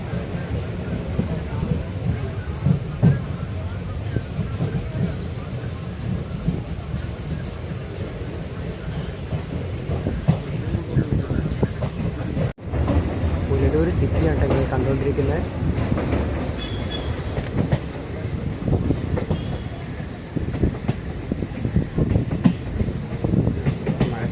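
A train with a banker locomotive attached climbs a ghat section on a newly electrified line, with a steady rumbling roll and clickety-clack of wagons, a brief dropout midway, and people talking nearby.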